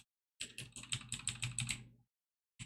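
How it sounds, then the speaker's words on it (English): Fingers type on a computer keyboard in quick, even bursts of clicks for about a second and a half, close and clear, then stop, with a brief tap after a pause. "you can't even see what I'm typing"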